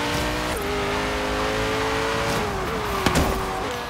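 Cars racing in Forza Horizon 3, a steady loud engine drone holding pitch with gear-shift drops, a brief tire squeal or bump near the end, no talk.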